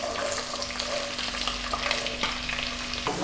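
Ivy gourd (kovakka) sautéing in hot oil for a pickle, a steady dense sizzle with occasional scraping stirs, close and continuous throughout.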